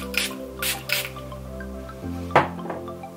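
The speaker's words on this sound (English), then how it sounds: "And I'm gonna go in with setting spray. This is the Boja White Charcoal Mattifying Setting Spray." Boja White Charcoal Mattifying Setting Spray mists out in three quick, close hissing pumps early on, then a single softer spritz follows after a pause.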